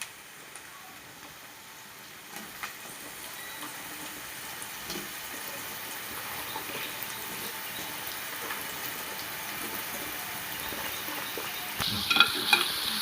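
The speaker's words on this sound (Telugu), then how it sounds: "ఎందుకంటే మొత్తం సొరకాయ వేస్తే గిన్నె నిండిపోతుంది. అందుకనే కొంచెం కలుపుకోవడానికి కష్టం అవుతుందని కొంచెం సొరకాయ వేసిన తర్వాత కలిపాను" Bottle gourd pieces are stirred in a pan, giving a soft, steady scraping and faint sizzle that builds gradually, with a few louder clinks near the end and no talking.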